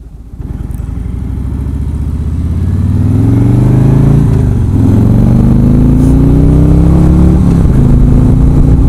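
A Harley motorcycle engine runs steadily and revs up, its pitch climbing in smooth rising sweeps, loud and close throughout.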